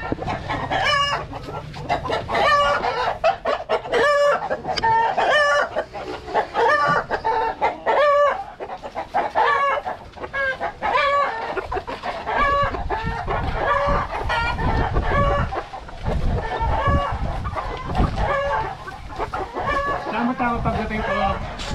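A flock of chickens clucks continuously nearby while a rooster crows repeatedly over them, loud and busy throughout.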